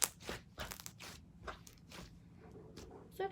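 Crunchy butter slime is squished by hand, giving quiet close irregular crackling and crunching pops in short bursts, alone with no talk.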